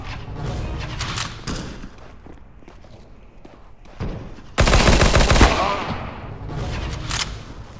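A P90 submachine gun firing in the video game CS:GO, a loud burst of rapid automatic fire mid-clip among footsteps and other gunfire in the match.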